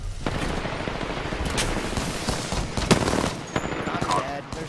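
Rapid automatic gunfire in the Apex Legends video game, with sharp bursts and single shots cracking over a busy battle mix, some shots louder and closer, with a voice briefly heard amid the firing.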